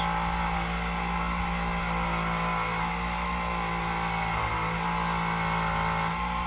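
A buffing wheel spinning fast while polishing an aluminium ring under light pressure, a loud continuous steady motor whir with a hum, unbroken throughout.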